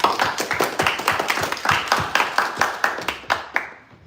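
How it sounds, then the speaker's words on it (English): An audience at a tech demo event giving a round of applause, a small group clapping at close range with distinct hand claps that thin out and fade toward the end. "Let's hear a round of applause for him."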